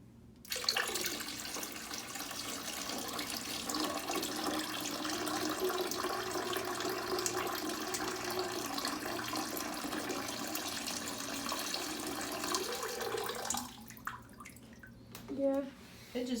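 Water pours into a pitcher in a steady, continuous splashing stream for about thirteen seconds, then stops abruptly, followed by a few faint clinks and handling noises.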